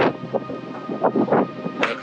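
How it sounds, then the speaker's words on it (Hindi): Strong, freezing wind in Nubra Valley beyond Khardung La, buffeting the microphone in uneven gusts with a broad, rough rush that swells and dips throughout. "It's quite windy."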